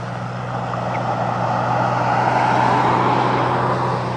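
A GT500 car doing a burnout gives a loud, sustained engine roar with a steady low hum and broad tire noise that holds constant throughout, with no talking.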